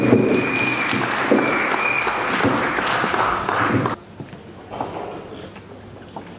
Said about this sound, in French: Sous vos applaudissements très très forts